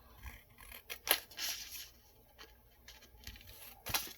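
Scissors snip paper into little strips in a few quick, crisp cuts, with soft rustling between them, close and fairly quiet.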